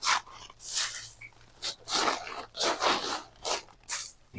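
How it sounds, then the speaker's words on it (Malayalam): Dry fallen leaves spread by hand as the bottom layer of a compost heap, giving repeated crisp rustling and crunching bursts close by, in uneven rhythm with short pauses. "അടിയത്തെ ലെയറിൽ നമ്മൾ കരിയില ഇങ്ങനെ നിരത്തി കൊടുക്കാം"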